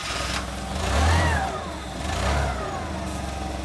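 A forklift engine revs up twice in quick swells, then settles into a steady nearby idle, with no talk.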